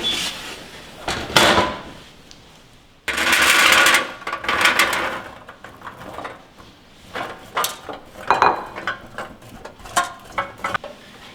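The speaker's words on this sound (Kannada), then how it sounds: "ಈಗ ಇದನ್ನು ಏರ್ ಫ್ರೈಯರಲ್ಲೇ ಹಾಕ್ಕೊಳ್ಳೋಣ." An air fryer basket is loaded with a homemade snack and slid shut, producing close plastic scrapes, knocks and a heavier sliding clunk, followed by scattered lighter handling clicks.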